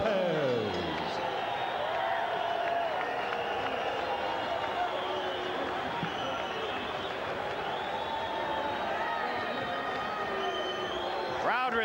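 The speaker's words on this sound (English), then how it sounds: "Crowd responding here to Lopez's success." A boxing arena crowd roars steadily after a majority-decision verdict, loud sustained cheering and applause filling the whole stretch with a dense, continuous wash of voices.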